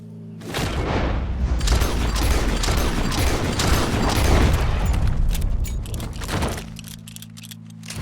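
A gunshot in Red Dead Redemption 2, a heavy booming blast followed by a long rumbling, crackling tail that fades over several seconds.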